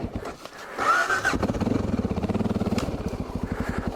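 Honda XR650L dual-sport motorcycle engine starting up, a brief cranking whine followed by a close, loud single-cylinder idle with steady rapid thumping pulses.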